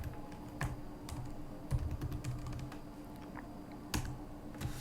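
Quiet keystrokes on a computer keyboard entering a Linux terminal command, irregular soft clicks with a few louder taps and a faint room hum.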